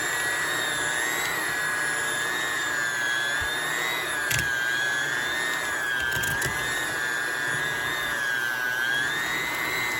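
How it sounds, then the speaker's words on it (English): An electric hand mixer whirring continuously through thick cheesecake batter, a steady high motor whine with slight wavering pitch and a few brief knocks against the bowl, close and loud with no speech. "You have to keep mixing it until it's fully smooth and fully incorporated."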